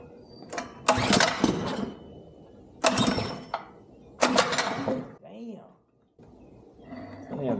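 A small go-kart engine sputters and catches in a few loud rough bursts with mechanical clatter between them, while people talk excitedly nearby.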